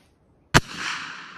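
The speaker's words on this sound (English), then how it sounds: "So those bear bangers are pretty loud." A single sharp bear banger firework bang cracks out after a moment of silence, loud and close, followed by a long rushing echo that rolls away across the outdoor surroundings.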